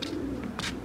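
Pigeons cooing inside a netted enclosure, a brief low, soft throaty coo up close with no one talking.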